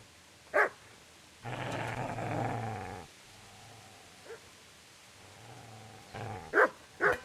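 A dog in the Kingdom Come: Deliverance video game gives a sharp bark, then a sustained low growl lasting about a second and a half, and later a burst of yips and barks near the end, all close by.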